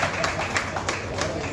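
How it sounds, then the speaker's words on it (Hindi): Audience clapping at a music lovers' society evening event, a steady wash of hand claps at moderate volume with a few sharper claps standing out. "जोरदार तालियों के साथ स्वागत।"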